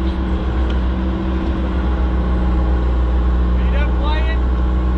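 The 120 excavator's engine idling on a retaining-wall job, a close, steady low rumble with an even hum, joined near the end by a brief warbling tone.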